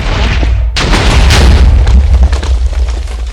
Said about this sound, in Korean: 뭐야 폭발력이 이거밖에 안 돼?